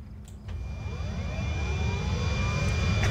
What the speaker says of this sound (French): Et là, vous avez un hélicoptère full plein et tout ça.